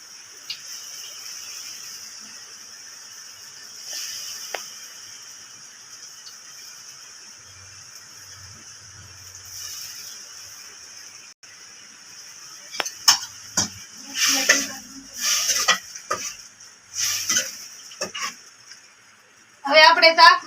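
Fish frying in hot oil with chili and tomato gives a steady, high sizzle. Stirring and clattering of the pan break in toward the end, and a voice speaks intermittently over the cooking.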